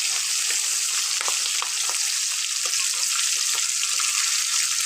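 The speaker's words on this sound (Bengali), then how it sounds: "দেখুন আমি ভালো করে লাল করে ভেজে নিচ্ছি" Flat fish fry in oil until reddened, giving a steady, close hiss and sizzle with faint crackles throughout and no talking.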